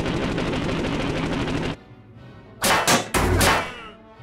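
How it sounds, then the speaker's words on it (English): Fighter cannon fire striking a B-17 bomber in a flight game, a dense rattling roar that cuts off, followed after a pause by several loud, sharp bursts of impacts, close and heavy. "The airframe and port wing are peppered with cannon fire"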